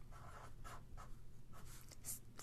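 A pen scratches across paper in short, quiet strokes, working out a trigonometry problem. The close, faint scribbling comes in uneven bursts over a low background hum.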